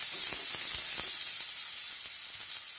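Onions and green chillies sizzling in a pan, a loud continuous hiss up close with faint scraping taps of stirring underneath.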